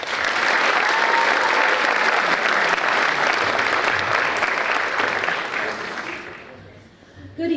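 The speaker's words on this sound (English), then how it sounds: "give a round of applause" Sustained, dense applause from an audience at a National Honor Society induction ceremony, loud and steady throughout before tapering off near the end.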